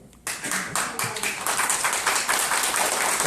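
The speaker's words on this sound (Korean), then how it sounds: "박수 치지 마요." An audience at a political lecture breaks into sustained clapping, starting abruptly and building into dense, loud applause that fills the room without any voices over it.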